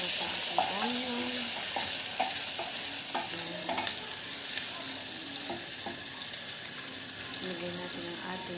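Onion fries in hot oil, giving a steady, loud sizzle with occasional stirring scrapes, while a voice speaks intermittently over the cooking.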